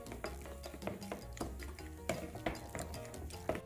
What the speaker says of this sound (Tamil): மசாலா பவுடர் எல்லாத்தையுமே மிக்ஸ் பண்ணிடலாம்